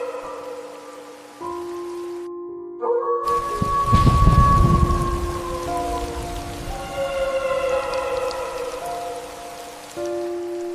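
Heavy rain in a horror cartoon setting, a steady hiss of downpour beneath sustained musical tones, with a deep rumbling swell like thunder partway through.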